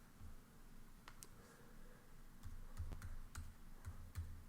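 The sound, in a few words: typing on a computer keyboard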